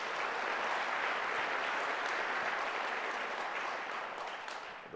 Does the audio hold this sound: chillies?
no